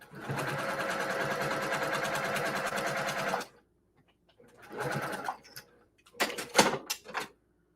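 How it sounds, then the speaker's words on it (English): A sewing machine stitches quilt fabric in a fast, even run for about three seconds, stops, then starts again in two shorter bursts, close and clear with no talking. "Oh, yeah, things have to be resewn."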